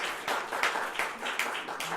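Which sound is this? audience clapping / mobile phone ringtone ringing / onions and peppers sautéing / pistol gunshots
audience clapping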